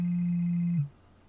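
A phone rings with a steady, sustained electronic tone that cuts off abruptly, answering an Alexa Tracker find-my-phone request, followed by quiet room background.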